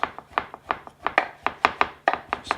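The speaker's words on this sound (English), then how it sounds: "We'll just start chopping this fine." A knife chops mushrooms finely on a cutting board in a steady, quick rhythm of crisp thuds, about four strokes a second, close and clear with no talking.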